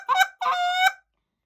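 Two honking notes blown on a goose call in quick succession, loud and close, the second drawn out slightly longer, then silence.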